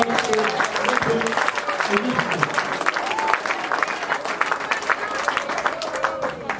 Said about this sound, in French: Applaudissez encore pour la...